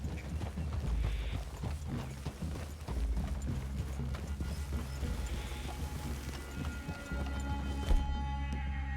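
Horses clip-clop in Red Dead Redemption 2, with steady hoofbeats over a wooded clearing, mixed with creaking gear and low rumbling game ambience, fairly close and continuous.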